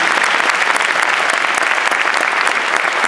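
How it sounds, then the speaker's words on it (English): Dense, steady applause from a large audience at a high school graduation ceremony, filling the whole stretch at an even, loud level without a break. "A round of applause for Daniel."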